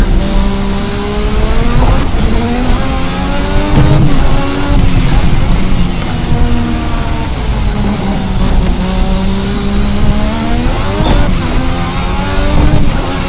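A 1986 Formula RSS V6 race car in Assetto Corsa, its engine screaming loud and continuous, repeatedly climbing and bouncing off the rev limiter with rising and falling pitch sweeps.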